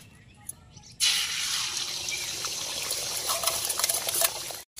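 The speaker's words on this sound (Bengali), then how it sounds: "আর কড়াতে তেল দিয়ে নিয়েছি, ডিমটা ভেজে নেব।" An egg dropped into hot oil in a wok bursts into a loud, steady sizzle and crackle that carries on for several seconds before cutting off.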